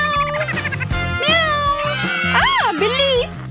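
A voice imitates a cat, giving a few drawn-out, wavering meows over steady background music, loud and close.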